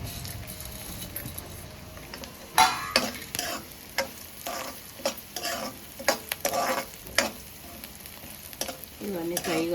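Peanuts and chana dal fry in a pan with a steady sizzle, while a spoon stirs and scrapes them in irregular clattering bursts, close and moderately loud, with no talking.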